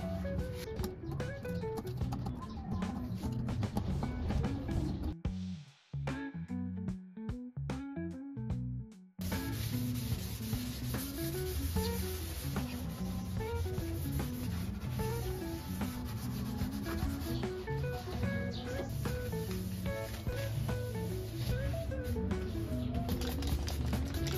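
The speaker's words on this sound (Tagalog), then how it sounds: "Punasan lang muna natin ito ng tuyong tissue." Dry tissue rubs over gas range parts during a repair and restoration for a low flame problem, giving steady close scrubbing strokes under continuous background music, with a brief break partway through.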